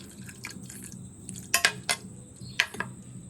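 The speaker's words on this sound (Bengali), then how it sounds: "এবার আমি এখানে সামান্য জল দিয়ে দেবো" A little water is added to a pot of chicken boiling with bay leaf, whole spices, cumin, turmeric and salt, giving a few close drips and soft splashes with quiet pauses between them.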